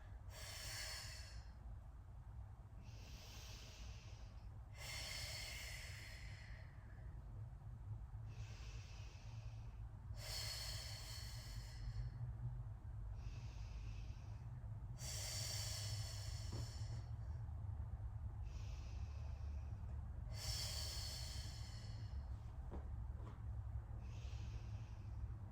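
Deep rhythmic breathing, about five slow inhale-exhale cycles of airy, loud breaths over a steady low hum during a deep core exercise, with no talking.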